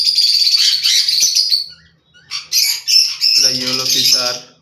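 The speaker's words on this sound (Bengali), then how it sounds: "এই যে লাভবার্ড আপনারা দেখিয়ে দিচ্ছি" Lovebirds give sharp, high chirps and squawky calls in close, clustered bursts with a short pause between them. A few calls come lower and buzzier, and faint talk sits underneath.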